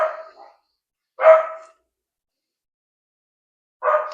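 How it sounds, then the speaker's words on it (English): Puppies bark indoors, giving three separate sharp, close barks spaced a second or more apart, with silence between them. "I brought the puppies in here, so hopefully they won't bark."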